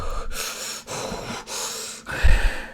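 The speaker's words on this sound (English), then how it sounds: "I need to breathe." A person breathes deeply to catch their breath, three long, loud, airy inhale-exhale cycles close to the microphone, ending in a heavier, rougher gasp.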